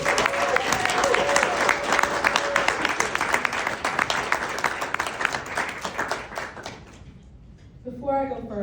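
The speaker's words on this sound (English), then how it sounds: "Please let's give her another round of applause." A 2022 graduation ceremony audience at a political leadership institute breaks into dense, sustained applause for about seven seconds, then the clapping thins and fades out before a voice begins speaking.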